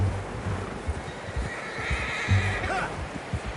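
A horse in the video game Red Dead Redemption 2 gives a clear whinny partway through, over hoof clip-clops and ambient game sound.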